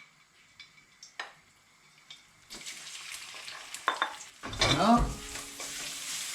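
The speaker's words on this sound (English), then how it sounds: "my wok is on. Some vegetable oil, 8 teaspoons, garlic in, fish in." Garlic and fish hit hot vegetable oil in a wok, starting with light clicks and taps and building into a loud, close crackling sizzle, with a brief spoken word.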